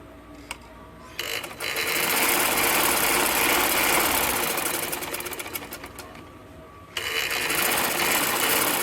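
A sewing machine stitches a ladies' shalwar in loud, steady runs of rapid mechanical chatter, with a short quiet pause before starting and another lull near the end before it resumes.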